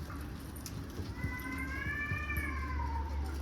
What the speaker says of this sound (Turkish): Kediler kavga ediyor.